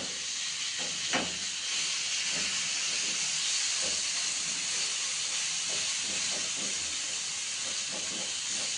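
Chicken fries in hot oil in a frying pan, giving a continuous bright sizzling hiss with a few soft pops and crackles scattered throughout.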